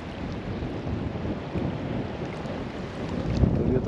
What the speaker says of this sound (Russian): Сейчас приличный ветер.